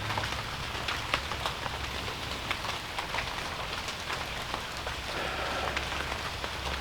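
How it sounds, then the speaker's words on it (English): Steady rain pattering on surfaces all around, a dense even hiss with scattered drips standing out, no one speaking. "Not sure if you can hear it, but it's a rainy day."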